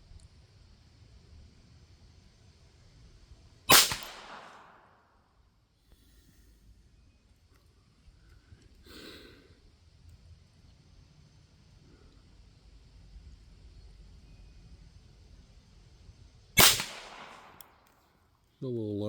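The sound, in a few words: Beretta Model 102 .22 LR pistol shots at target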